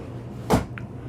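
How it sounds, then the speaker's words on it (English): A storage drawer beneath the seating in a 2023 Newmar Super Star 3727 motorhome slides with one short, sharp thump, followed by a faint light knock, close by and without talk. "You also have drawers underneath these guys to put games and a little extra storage there."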